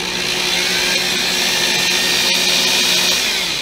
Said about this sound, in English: This is a big old mud mixing drill.